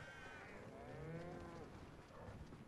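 In Hogwarts Legacy, a cow lets out a long, drawn-out moo, moderately loud against steady game ambience.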